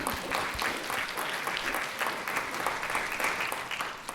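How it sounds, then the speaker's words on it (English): An audience at a panel event on racial economics claps in a steady, moderately distant round of applause that carries on throughout without a break. "let's give them all a round of applause"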